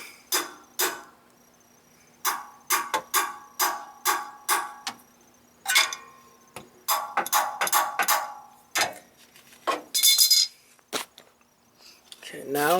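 A new electromagnetic clutch coil being tapped little by little onto the AC compressor pulley of a 1997 Ford F-150, giving a series of sharp, close metallic taps in irregular bursts with short pauses between them.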